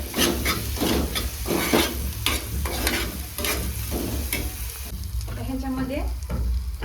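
Onion and tomato sizzle and fry with a pinch of salt in a pan, with a steady loud crackle and repeated scraping strokes of a spatula, and no talking.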